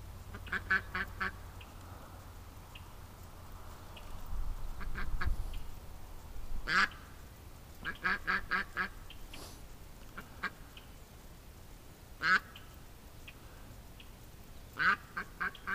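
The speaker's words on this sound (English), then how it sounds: "She keeps walking over here and quacking at me and then walks away, then walks back." A duck, upset at being shut out of a barn, quacks repeatedly in short bursts of several calls, close by, with pauses between the bursts and quiet outdoor background.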